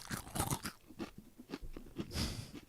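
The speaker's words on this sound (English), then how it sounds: "I can't hear you because I'm chewing" Someone chews crunchy food close to the mouth, a quiet steady run of crisp crunches and bites.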